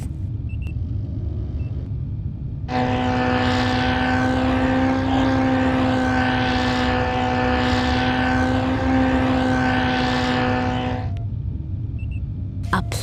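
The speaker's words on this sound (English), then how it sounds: "A plane." A propeller airplane passes overhead, a steady droning engine hum with a strong tonal buzz that rises in abruptly, holds loud for about eight seconds, then cuts away over a low rumbling background.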